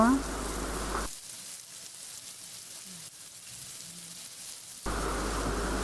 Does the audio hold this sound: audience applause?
no